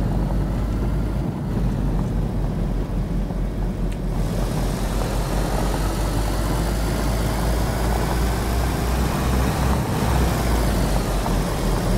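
A car engine in the video game DayZ drones steadily and low throughout, loud and continuous like a motor revving and cruising, with no talking.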